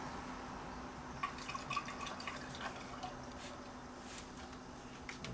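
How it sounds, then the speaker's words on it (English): Liquid poured down the spark plug holes of a Hyundai/Kia engine, a faint trickling and dripping with small splashy ticks over a low background hum, close and quiet, no talking. "pouring the stuff down through the piston, through the spark plug holes."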